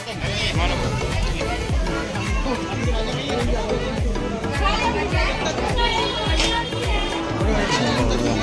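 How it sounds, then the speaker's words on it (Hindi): A dense crowd at a busy Indian place fills the air with continuous loud chatter and babble, children's voices and footsteps mixed in, steady throughout with no pauses. "चंद्रहुआ पर काफी भीड़ है"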